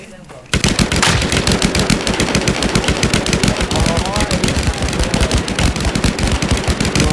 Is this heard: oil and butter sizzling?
no